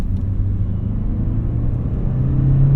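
A 1988 Honda Accord with about 20,000 miles heard from inside while driving: a steady low engine drone and road rumble that hold even throughout, with the engine note rising slightly toward the end.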